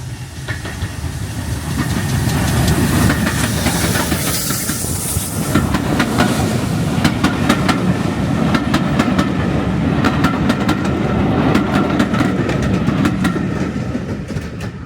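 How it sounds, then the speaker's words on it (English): GWR Manor Class steam locomotive 7812 Earlstoke Manor passes through Erdington on a heritage railway, giving a loud, steady rumble and hiss with rhythmic clickety-clack of wagons rolling by close at hand. "we've just seen Great Western Railway Manor Class 7812 Earlstoke Manor passing through Erdington"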